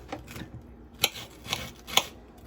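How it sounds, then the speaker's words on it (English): A knife slices vegetables on a cutting board for a Southwestern omelette, several sharp, separate chops about half a second apart, close and fairly quiet, with soft handling noise between them. "she's slicing up the veggies"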